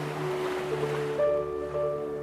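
Ocean waves for relaxation wash steadily in a continuous, even surf rush beneath soft sustained tones, calm and unbroken, with no voice.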